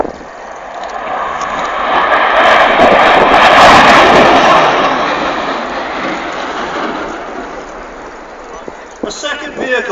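A Tornado GR4 jet at the RAF Waddington 2012 air display roars past in a loud, broadband surge that peaks mid-clip and slowly recedes, with rumbling noise throughout.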